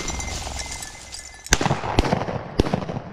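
Shotgun blasts at quail on an Alabama hunt, three sharp loud reports spaced about half a second to a second apart, following a quieter stretch of outdoor field ambience.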